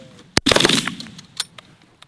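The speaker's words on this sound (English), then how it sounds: "You guys can go ahead and shoot these." A rapid burst of 20 gauge shotgun blasts fired at geese coming over decoys on an early season goose hunt, several loud close shots in quick succession followed by a few fainter ones and quiet field ambience.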